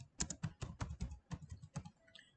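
An address is typed on a computer keyboard: a quick, close run of about a dozen crisp key clicks in an uneven rhythm, heard alone.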